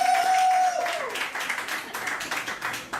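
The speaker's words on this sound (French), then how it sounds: "Je pense qu'on peut applaudir un peu plus fort que ça." An audience at a live open-mic event breaks into applause, a dense wash of clapping that swells briefly and then continues steadily, following a short sustained tone at the start.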